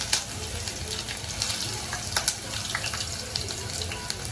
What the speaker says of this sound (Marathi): तेल कडकडीत तापलेले आहे तर त्यात आपण फोडणीला कांदा घालूया थोडासा